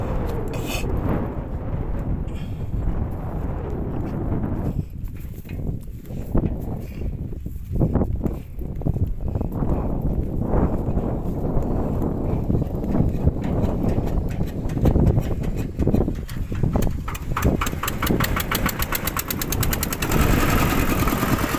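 A water pump engine for drip irrigation of newly planted sugarcane runs loud and close with a continuous rapid knocking chug that stays steady throughout.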